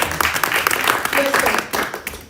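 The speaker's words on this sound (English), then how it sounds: "Please, a round of applause for you." Audience applause follows a presentation at a conference, a loose patter of clapping from a room that stays fairly close and moderate, with a voice speaking briefly over it.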